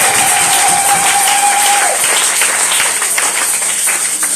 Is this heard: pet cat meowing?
no